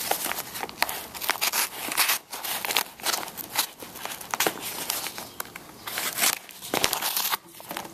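Thick recycled paper packaging being torn open and crinkled by hand, close and continuous with irregular ripping and crumpling bursts and no talking.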